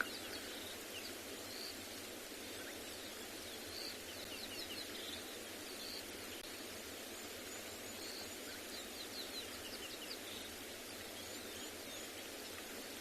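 Many birds chirp and twitter continuously in a distant sunrise chorus at Tswalu reserve over a soft, steady outdoor hiss.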